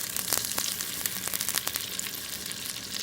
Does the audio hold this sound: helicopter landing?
no